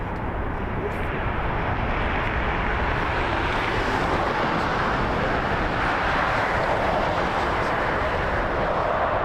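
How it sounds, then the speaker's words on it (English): A JetBlue Airbus A321-200 airliner passes overhead on approach near Las Vegas, a loud, steady broadband jet roar building and holding for several seconds, close and dominant with no voices. "we got the JetBlue coming in from JFK is about to go over Eastern"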